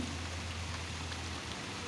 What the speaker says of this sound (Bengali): বৃষ্টি হচ্ছে মোটামুটি মাত্রই শুরু হলো